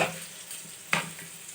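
Tomatoes frying in a pan for an okra curry give off a soft, steady sizzle with light stirring and one brief sharp clatter partway through.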